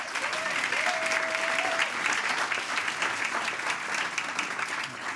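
Steady audience applause fills an awards ceremony honoring food-world impact, dense clapping throughout with a brief whistle-like tone early on.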